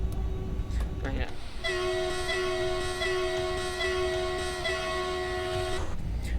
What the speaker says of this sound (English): So you can have the horn out of this train, and also a lower version of it